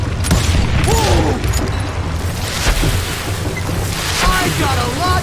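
Dynamite blasts and gunfire in the Western shooter Call of Juarez: Gunslinger, a loud continuous rumble with scattered sharp bangs and crackles layered through it.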